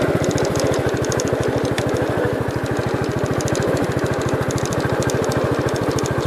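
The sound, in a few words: 1967 Gravely 430 tractor engine running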